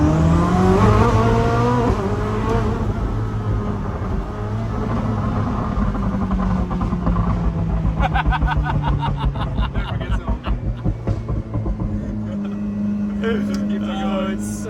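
A 1600hp Koenigsegg Jesko hypercar, loud and close, its engine revving and sweeping in pitch for several seconds, then rapid sharp bursts like gear shifts or pops later on, with people talking over it.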